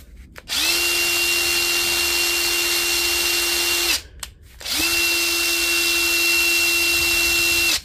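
A Panasonic EY75A2 impact driver with a freshly repaired switch runs in two sustained bursts of about three seconds each, separated by a brief pause, giving a loud, steady motor whine close by.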